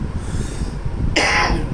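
A single sharp cough bursts out close to the microphone after a moment of low background rumble.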